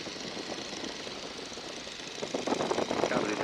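A 1942 Boeing Stearman biplane's radial engine drones steadily in flight with the power being brought back, a continuous rough rumble that grows slightly louder and choppier toward the end.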